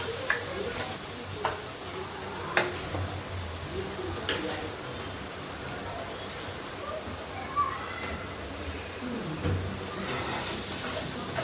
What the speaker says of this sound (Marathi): ती ग्रेव्ही थोडीशी अशी तळू दिली तेलामध्ये